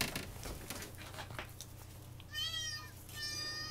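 A cat gives two short, faint meows at a distance, following a stretch of soft pattering and handling noises.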